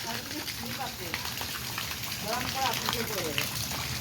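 Heavy rain pounding down at night during a storm, a dense steady hiss of drops on surfaces, with people talking over it.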